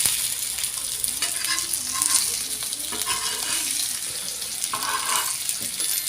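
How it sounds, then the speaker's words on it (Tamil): Masala curry with fish pieces sizzling and frying in a pan, a steady close crackle with soft scraping as it is gently turned and stirred, no voices over it. "மெதுவாக திருப்பி விடுவோம் ஸோ மசாலா உதிராமல் சரியாக வருது பாருங்கள் வேகட்டும்"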